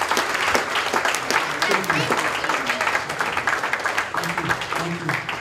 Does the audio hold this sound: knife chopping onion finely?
no